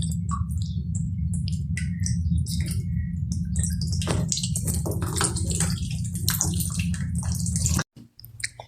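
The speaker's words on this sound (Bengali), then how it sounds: "কলটা টপ টপ করে পানি পড়তেই আছে।" Water drips steadily from a kitchen tap while chicken soaks for cooking, a continuous close patter and trickle with faint bird chirps outside, cutting off abruptly near the end.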